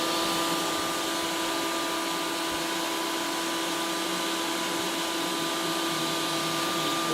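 Ninja Creami Deluxe motor running on the Italian ice setting, a steady, fairly loud whirring drone with a tonal hum that holds evenly throughout, no talking.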